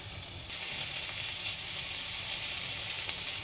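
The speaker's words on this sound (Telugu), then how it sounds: "చామదుంప ముక్కలు వేసి కొద్దిగా వేయించాలి" Taro root pieces fry in a pan with turmeric, a steady close sizzle that holds evenly throughout and swells slightly after the first half second, with no talking.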